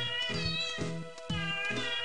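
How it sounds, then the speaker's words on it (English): Group of cats meowing in a chorus, drawn-out overlapping meows in a repeating rhythm, loud and steady with no talk over them. "And we will be serenaded by a group of cats."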